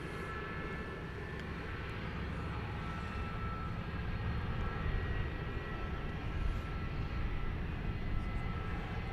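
Aircraft engines at DFW Airport at night, a steady broad roar with a faint high whine, sustained and moderately distant, with planes queued on the taxiway while another pushes back.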